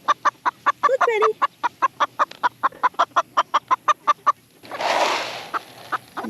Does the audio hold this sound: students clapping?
no